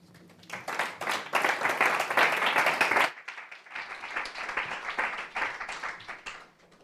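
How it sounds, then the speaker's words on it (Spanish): Audience applause for Blanca at a MUTtalks music-therapy talk, a dense burst of clapping that fades briefly and swells again before tapering off, with no voices over it. "Un fuerte aplauso para Blanca."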